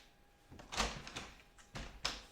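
A household door is pushed closed against its gaskets to test the seal, giving a few soft thuds and muffled knocks at low level, spaced unevenly over a couple of seconds.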